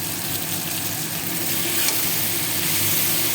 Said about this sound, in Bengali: হলুদ লবণ দিয়ে আমি ভেজে নিচ্ছি।